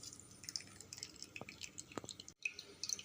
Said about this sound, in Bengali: নিয়ে এটা দুধটাকে বার করে নেব, এরকম করে করে নিচড়ে নেব।